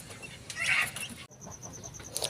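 Brahma and native hybrid chicks, crossed with an Australorp-native hen on a poultry farm, give faint, high, repeated peeps in the second half, after a brief muffled rustle.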